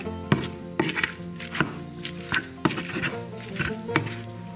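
A Pampered Chef Mix and Chop tool crushes peppers, onions and chipotle peppers into a cornbread bake mixture, giving a close series of irregular chunky crunching thumps against a bowl, with no talk.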